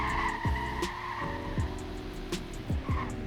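A BMW M2 with traction control off holds a slide, its tires squealing steadily over a droning engine, punctuated by repeated short chirps.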